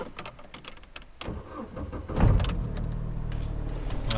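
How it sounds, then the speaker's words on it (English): An Opel Zafira is cold started: a short starter crank, then the engine catches and settles into a steady idle, heard up close with no talking. "Okay, let's start the car."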